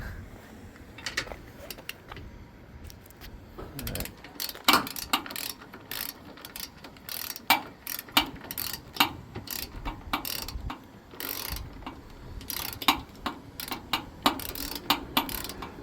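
Manual jack on a race trailer cranked down by hand, giving a steady run of ratcheting, clicking metal mechanism sounds with sharp irregular clanks, close by and moderately loud, with no talk.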